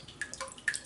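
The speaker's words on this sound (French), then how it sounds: "Je vais prendre la brosse, la tremper dans l'eau un peu." A shaving brush dipped briefly in water for a traditional shave with Gillette cream, giving a couple of faint, close little splashes and drips in a quiet room.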